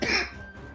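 A single cough, loud and close at the start, then fades into a quiet room murmur during a tabletop roleplaying session.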